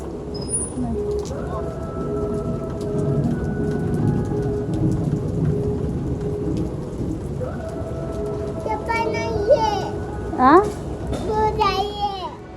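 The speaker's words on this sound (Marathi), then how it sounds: "हे बघ बरं पाऊस किती सुरू आहे." Heavy rain pours steadily with rumbling thunder, while someone talks and a child whines and cries nearby over the downpour.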